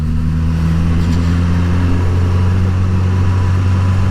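A 2021 Suzuki GSX-S 1000 motorcycle engine shifts from 2nd to 3rd gear, its steady, loud droning hum dropping to a lower pitch midway through the shift.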